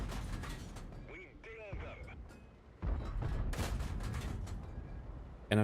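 Tank gun shots in World of Tanks from a Sherman Firefly VC, fired at very long range: several sharp booms with rumbling tails, the loudest near the end, mixed with mechanical game sounds and a speaking voice.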